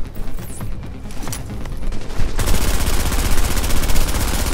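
Rapid blind-fire bursts from a Tacticians build loadout in a shooter game, starting as scattered shots and swelling after a couple of seconds into a dense, continuous volley of close, loud gunfire.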